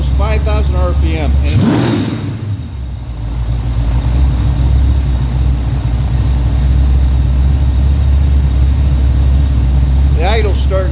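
A 1967 Pontiac GTO with its original 400 engine idles loudly and steadily, its idle gradually rising as the warm engine loosens up, with someone talking over the rumble at the start and again near the end.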